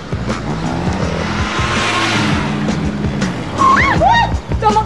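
A car on a city street approaches and passes with a steady engine rumble, ending in a short tire squeal over busy background sound.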